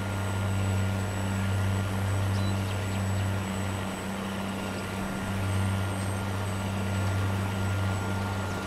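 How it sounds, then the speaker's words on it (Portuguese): Steady droning hum of a seeder's vacuum turbine in Farming Simulator, a constant low tonal whine holding level throughout with a faint high whistle above, no talk. "a turbina de vácuo"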